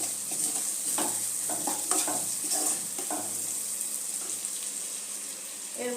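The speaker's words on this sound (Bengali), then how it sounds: "ভালো মতো মশলাটা মিশিয়ে নেব।" Masala of cumin powder, coriander powder and Kashmiri chili powder is stirred in a pan for a fish egg curry: repeated scraping strokes over a continuous bright sizzle, close up, easing to steady frying toward the end.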